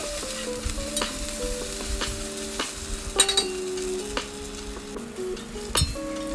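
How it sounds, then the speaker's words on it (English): Ginger garlic paste fries over high flame for chicken kabsa, a steady busy sizzle punctuated by repeated stirring scrapes and metallic clinks of a spoon against the pot. "You will now have to add the ginger garlic paste and fry it well for about 2 minutes on high flame."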